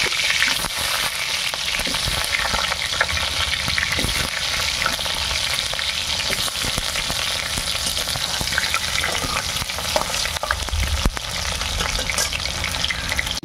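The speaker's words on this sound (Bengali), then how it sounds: "কুমড়ো ভাজা হচ্ছে।" Pumpkin frying in hot oil for a Bengali labra curry crackles in a loud, continuous sizzle, with occasional stirring scrapes in the pan close by.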